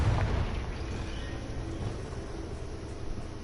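A Confringo blasting-spell explosion in the video game Hogwarts Legacy opens with a deep, muffled boom, then settles into a steady low rumble that lingers for a few seconds.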